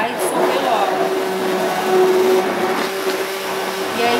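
A blender dissolves fabric softener concentrate in water, running with a steady, high-pitched motor whine, loud and close, holding constant throughout.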